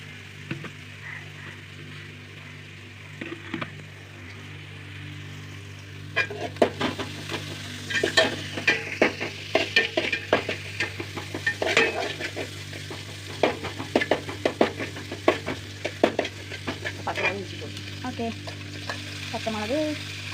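Onions sautéing with salt in a pan, first a faint steady sizzle, then louder frying with repeated stirring and scraping from about six seconds onward, close and clear with no talk.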